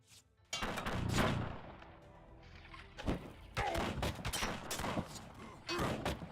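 Gunfire in the video game Battle Realms 2, bursts of shots and heavy thuds in repeated volleys, loud and close, with a busy layered battle mix between the bursts.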